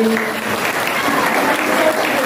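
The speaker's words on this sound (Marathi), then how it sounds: "अशा या जुना गावाची पुन्हा एकदा टाळ्या वाजवा" Audience at a village women's cultural ceremony in Junona claps steadily, a dense, continuous round of applause filling the whole moment at close range with faint voices underneath.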